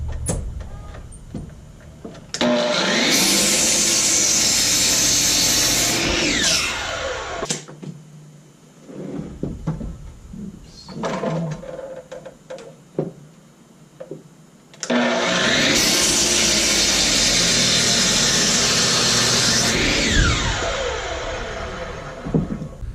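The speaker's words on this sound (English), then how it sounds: "Now I'm going to take it over to the chop saw and cut it down to the 35 inches" A chop saw cuts a wooden baseball bat blank sawn from a log: the motor spins up to a loud steady whine, drops away during quiet handling, then roars again through a second long cut before winding down.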